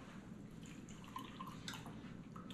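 Buttermilk left from homemade butter poured through a strainer, trickling and dripping softly at close range for a few seconds with small splashes.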